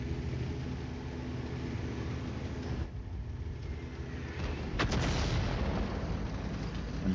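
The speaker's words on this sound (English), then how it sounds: "their artillery is focusing me right now" Artillery fire in an online tank video game: a continuous heavy rumble of engine and battle noise with one sharp, loud blast near the end, no talking.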